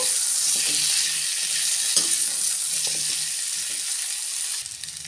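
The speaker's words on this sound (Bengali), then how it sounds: "কুমড়ো, গাজর, ফুলকপি একসঙ্গে ভেজে নেব" Pumpkin, carrot and cauliflower frying together in a pan for Bengali khichuri, a steady loud sizzle with soft stirring clunks throughout, no talk.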